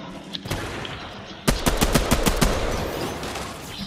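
Rapid burst of sniper rifle shots in the Red vs Blue video game, about seven sharp cracks in quick succession after a quieter lead-in, loud and close with no talking over them.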